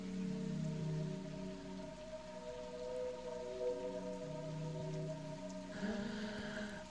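Steady rain falling in the video game OFF, set in a rainy green zone, a soft continuous patter under sustained droning musical tones that shift near the end.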